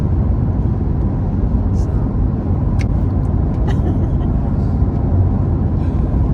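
Steady close road rumble of a car cruising on a highway heading south from Billings into Wyoming, a continuous low drone of tires and engine with a few faint clicks and rattles from inside the cabin.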